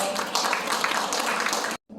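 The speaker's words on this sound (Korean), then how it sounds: "여러분 크게 박수 부탁드리겠습니다" Audience applause at an information session for a civic monitoring group, as a lecturer is welcomed: a dense, steady wash of many hands clapping for nearly two seconds, then stopping abruptly.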